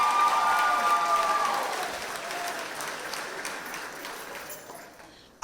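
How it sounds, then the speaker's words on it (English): A crowd applauds at the 2019 Arkansas 4-H O-Rama opening ceremony: dense, steady clapping fills the hall, then slowly thins and fades over several seconds, with a brief whistle near the start. "Give yourselves a round of applause"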